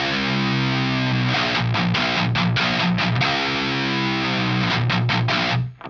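Electric guitar played through a Blackstar Series One Mk II amp on the Overdrive 2 channel, giving a loud, continuous, heavily distorted tone with sustained chords and quick choppy breaks near the end.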